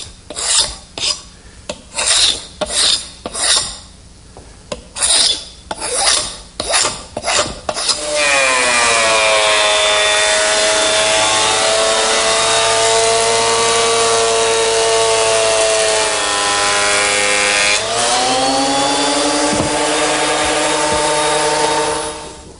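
A 12-inch surface planer smoothing a wood blank: a run of short rasping bursts gives way to a loud, sustained whine as the board feeds through, with a pitch shift as it exits.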